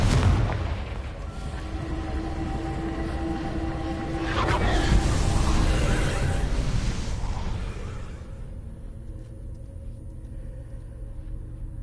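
Confringo spell explosion in Hogwarts Legacy, a heavy rumbling blast that swells midway, then gives way to a low lingering rumble as it fades.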